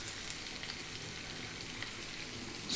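Onion with a spoonful of garlic-ginger paste sizzles steadily in a hot pan on high heat, a dense, even frying hiss that runs close and alone for the whole stretch.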